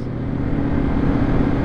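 Old school Chevy truck driving by on a street, a close, loud, low engine rumble that holds steady through the short stretch.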